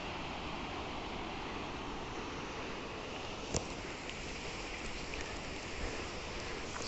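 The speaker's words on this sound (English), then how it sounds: "the Fitzroy Falls is falling from 81-meter height" Fitzroy Falls in Morton National Park, a thin low-water stream dropping 81 metres, gives a steady broadband rush of falling water that holds even and unbroken throughout, heard from a distance with no voices.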